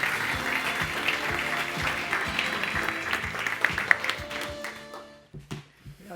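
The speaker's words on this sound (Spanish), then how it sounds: "Un aplauso para Rosa." An audience at a book presentation in Madrid applauds a speaker. The dense clapping is steady, then fades out near the end.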